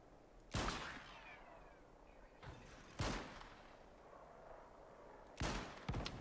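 Three separate loud gunshots in the survival video game Icarus, each a sharp boom with a short decaying tail, spaced a few seconds apart over quiet ambience.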